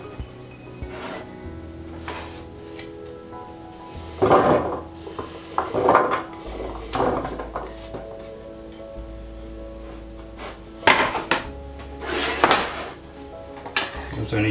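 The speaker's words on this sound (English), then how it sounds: "So once the potatoes are diced, you need to add them to a tray. I'm just using a baking tray." Diced sweet potatoes tipped onto a metal baking tray, giving several scattered clattering and scraping bursts with soft knocks and rattles, fairly close and moderately loud, spaced out with quiet gaps between.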